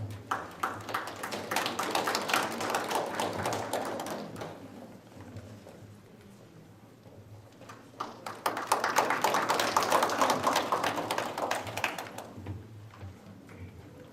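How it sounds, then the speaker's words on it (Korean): Audience applause at a Korean fire-safety monthly event as the chairman comes on stage, a sustained burst of clapping that fades, then a second loud wave of applause. "여러분들 박수로 환영해 주시기 바랍니다"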